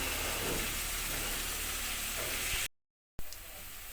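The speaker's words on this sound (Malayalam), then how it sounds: "വെളുത്തുള്ളി ആണെങ്കിലും പച്ചമുളകാണെങ്കിലും ചെറുള്ളി ആണെങ്കിലും എല്ലാം നല്ലതുപോലെ മൂത്ത് കിട്ടണം" Garlic, green chili and shallots sauté in hot oil with a steady close sizzle and hiss, cutting out briefly to silence before resuming.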